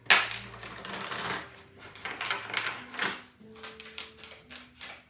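Tarot cards being cut and shuffled three times, a run of crisp papery riffles and taps with soft thuds of the deck, close and fairly quiet, no talk.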